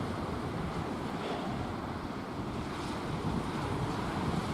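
Sea waves wash onto the seaside at Llandudno on a windy morning, a steady roaring surf mixed with buffeting wind noise on the microphone, continuous and fairly faint with no voices.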